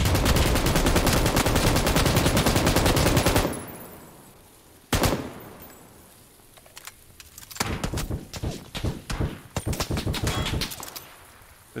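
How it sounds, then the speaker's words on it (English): Rapid automatic gunfire in the video game PUBG on Xbox One, a loud sustained burst followed by a single sharp shot, then scattered shorter volleys and bursts at varying distances. "This guy down there shooting at me as well now."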